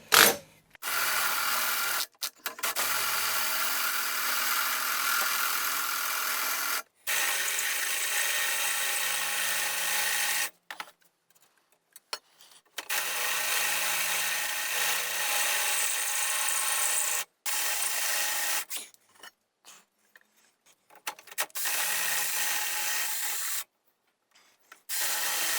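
Metal being drilled through on a 370Z twin-turbo build, with cutting fluid keeping the hole wet: a grinding, rasping power-drill whine in several bursts separated by short pauses, close and fairly loud.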